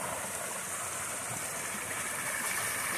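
A natural stream flowing, steady close rushing and burbling water with an even hiss, no other sounds.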